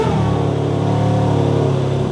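A BMW M2's engine idles loud and close with a steady mid-range tone that swells slightly as it revs, continuous throughout with no talking.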